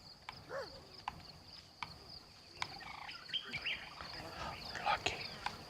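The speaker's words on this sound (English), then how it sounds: "The little birds in the morning" Small birds chirp and call in a morning wilderness scene from the video game Ancestors: The Humankind Odyssey, with scattered short tweets and trills over a soft insect-like background hum and faint speech.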